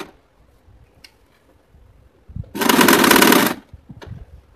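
About a second of rapid, loud, even machine stitching as a sewing machine runs a straight seam along a bag strap, framed by quiet handling sounds and soft taps before and after.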